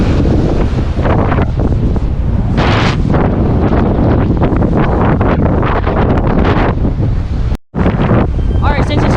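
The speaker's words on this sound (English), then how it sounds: "So as you can see, it's still windy, like really windy." Strong storm wind buffeting the microphone on the Lake Michigan shore, a loud continuous roar with gusty surges and a brief dropout near the end, with possible water noise beneath.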